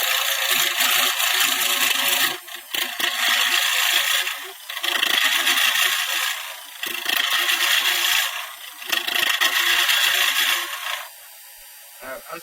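Wood lathe turning a tobacco pipe, with a loud, gritty rattling and scraping of the cutting tool against spinning wood in several long passes broken by short pauses.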